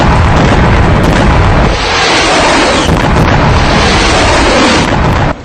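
Explosions from a Hezbollah rocket attack on northern Israel roar as a loud, sustained rumbling blast, booming continuously with wind-buffeted distortion and no voices.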